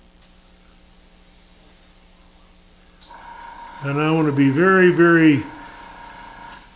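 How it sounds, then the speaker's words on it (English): Small airless compressor runs with a steady low hum and hiss while spirit stain is sprayed onto a turned wooden bowl in a woodturning shop; someone talks over it partway through. "what you're hearing is my little airless compressor going off and"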